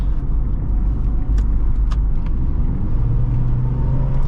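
A 2006 Subaru Forester 2.5 X accelerates, heard from inside the cabin as a loud, low engine rumble with road noise, with a rising engine tone toward the end.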